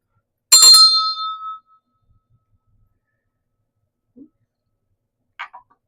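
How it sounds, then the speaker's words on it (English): A single bright ring of a small hand bell, struck once and left to decay for about a second, followed by silence and two tiny faint clicks. "I need to ring the bell."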